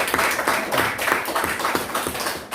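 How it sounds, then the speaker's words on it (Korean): Church congregation clapping for an elder couple, a steady rhythmic round of hand claps with distinct individual slaps, fairly close and loud, lasting a few seconds without speech. "박수 한번 드립시다."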